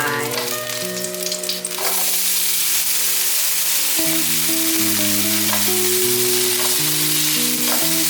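Tofu skin pieces hit hot oil with fried ginger slices in a wok, giving a loud, steady sizzle with scraping stir-fry strokes and spatula clanks, no voices.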